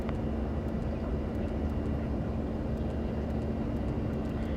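An aircraft engine drones steadily in a flight simulator game, a constant broadband roar with a faint tonal hum, loud and unchanging throughout.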